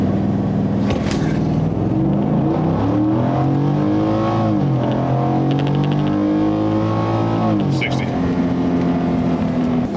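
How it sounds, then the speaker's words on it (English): A 2022 Ford F-150 with the 5.0 V8 running on E85 revs hard while brake torqued, its loud engine note rising and falling in swells close by, with voices talking over it. "So I'm gonna try to brake torque it right now and see the difference that makes."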